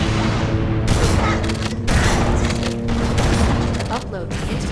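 Fuel rod gun blasts and a grenade explosion in Halo: Combat Evolved, a rapid series of loud booming bursts with crackling gunfire and clatter throughout.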